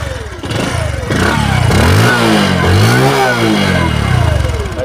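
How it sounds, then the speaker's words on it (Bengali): A 2022 Bajaj Discover 125 cc motorcycle cranks and fires up close by, the engine catching and rising into a loud, steady running note with a slight rev. "এবার আমি আপনাকে সেলফ কন্ডিশন দেখান চালু করে দেখাবো"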